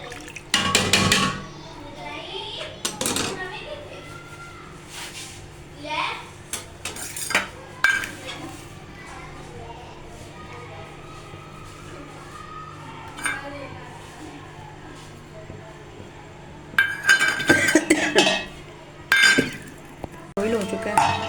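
A metal pot lid clanks and clinks several times in a home kitchen while white chana rice cooks. The sharp, scattered metallic hits are separated by quieter stretches of background noise and talk.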